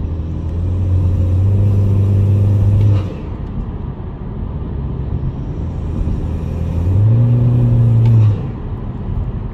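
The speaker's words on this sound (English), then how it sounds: "I noticed that my intake has gotten a little bit louder." A 10th-generation Honda Civic, newly fitted with a larger grille opening, revs its engine twice. Each deep intake swell rises, holds for a couple of seconds and falls back to a steady rumbling idle between the revs.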